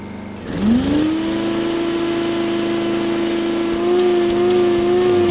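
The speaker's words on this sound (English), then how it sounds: "You can hear the engine working." A small Honda EU2000i portable generator engine starts and settles into a steady, loud hum with a constant mid-pitched drone under load from a shop vac, rising slightly in effort toward the end.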